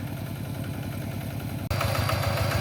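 A walk-behind tractor engine runs in a rice paddy, close and steady with a fast rhythmic chugging putter that briefly dips and then returns slightly louder and rougher.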